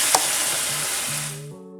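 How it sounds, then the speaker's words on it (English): Loud, steady sizzling of beef broth poured into a hot pan, a broad hiss that fades slightly toward the end as a soft tone emerges. "add 2 cups of broth to your pan and listen to the sizzling"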